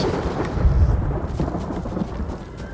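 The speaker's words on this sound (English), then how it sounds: "Thunderstorms." Thunderstorm in the game Ghost of Tsushima: a low rumble of thunder swells early and fades under a steady wash of rain.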